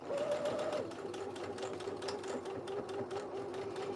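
A sewing machine stitches a jacket in a continuous, even whir with a rapid needle rhythm, close and moderately quiet, pitch dipping slightly after the first second.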